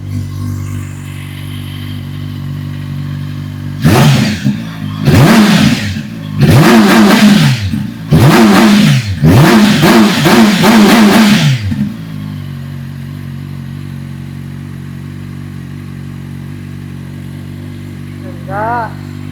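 A CFMoto 750SR-S motorcycle idling, then revved hard about five times in quick succession, each blip rising and falling sharply before settling back to a steady close idle.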